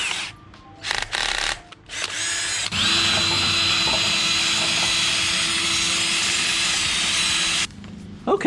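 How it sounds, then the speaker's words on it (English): A power tool buffs rust off long-tube metal headers: a few short revving bursts with gaps, then a sustained loud high whine held for several seconds before cutting off, with no speech. "I'm just gonna go ahead and buff it like this."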